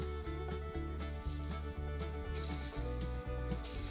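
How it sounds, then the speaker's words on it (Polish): Worn bearings from a Suzuki SMX 50 engine, spun by hand, give a close, steady rough whir with a faint rhythmic rattle that repeats with each turn. "Słychać szum, łożyska szumią, mają luz."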